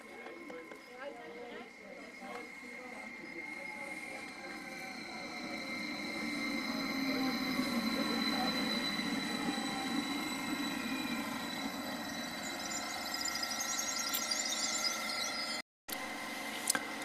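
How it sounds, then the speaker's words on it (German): Lokomotion class 189 electric locomotive hauling a freight train of containers and swap bodies past on track 2 in wintry Assling, a faint rising rumble and rolling hum with someone talking over it. "das ist wieder mal ein Locomotion geführter Güterzug, Baureihe 189 von Locomotion, mit Sattlerflieger, Wechselbrötchen und Containern auf Gleis 2."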